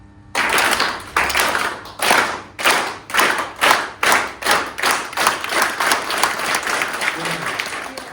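A group claps hands in a steady, even rhythm, about three claps per second, loud and close, continuing for several seconds.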